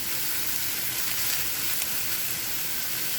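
Shrimp and pork fried rice sizzles steadily in a pan over a camp stove, a close, even hiss of frying with no talking.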